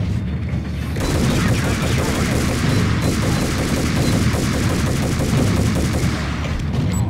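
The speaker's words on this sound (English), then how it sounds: "People shooting!" Dense, loud bursts of gunfire from the Max Payne video game fill the scene, continuous rapid shots layered over one another like a firefight, with a brief lull near the start and end.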